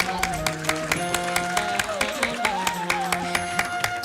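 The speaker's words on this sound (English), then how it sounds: "Let's give a big clap." Auditorium audience at a university chemistry symposium clapping for an award winner, with a steady patter of hands mixed with music and a voice over it, moderately loud throughout.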